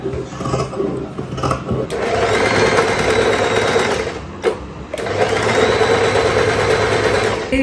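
A sewing machine stitches the back panel of a garment in steady, fast bursts, running loud and close for about two seconds, pausing briefly, then running again, with faint hum between.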